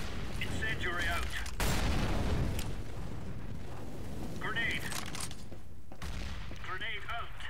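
Combat in CS:GO, where an incendiary grenade is thrown and burns amid a busy mix of gunfire and bursts. Voices talk over parts of it.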